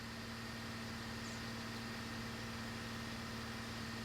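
A tractor engine in Farming Simulator 19, pulling a seeder, runs as a constant low, humming drone at a steady pitch, with no change in speed and no talking.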